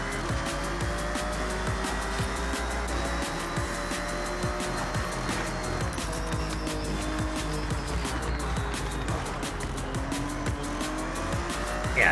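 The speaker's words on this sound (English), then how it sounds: "Just smacking into all the cars." Cars in the racing game Forza Horizon 6 roar along with engines droning steadily and tires squealing, while sharp impact clicks from repeated collisions cut through the constant noise.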